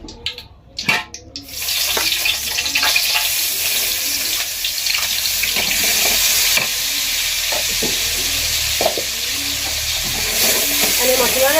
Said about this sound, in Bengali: মশলা ভালো করে ভাজি লইতে হবে।